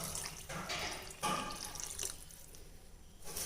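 Rice-washing water mixed with mutton stock poured into mutton bone rasam, a splashing liquid pour in uneven bursts that fades toward the end, close up with no voices.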